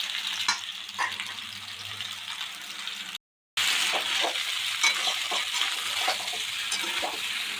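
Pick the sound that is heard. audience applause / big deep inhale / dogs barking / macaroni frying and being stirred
macaroni frying and being stirred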